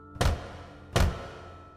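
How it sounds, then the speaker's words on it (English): Two heavy, forceful knocks land about a second apart, each a deep booming thud that rings briefly before fading, with nothing else around them. "2 bangs, loud and forceful."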